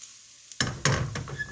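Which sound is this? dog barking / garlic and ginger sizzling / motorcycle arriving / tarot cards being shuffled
garlic and ginger sizzling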